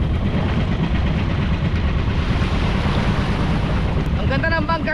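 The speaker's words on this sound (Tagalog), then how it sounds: "Ang ganda ng bangkang to, ang ganda maglaro ng alon kahit maliit lang." A small boat rides little ocean waves off an island, with heavy wind buffeting the microphone, rushing water and a constant low rumble throughout, loud and close, while a voice is faintly heard near the end.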